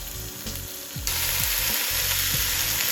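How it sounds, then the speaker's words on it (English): Chopped onion sizzles and fries with softened carrots in a pot for beef bourguignon, a steady close hiss that grows louder partway through, with occasional scraping stirs and low background hum. "Alright, so we now added the onion in."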